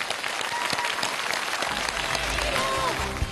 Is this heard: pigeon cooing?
no